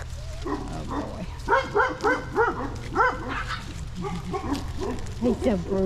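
Several young puppies yip and bark in quick, overlapping high-pitched bursts, close by, over a steady low hum, with a person's voice mixed in.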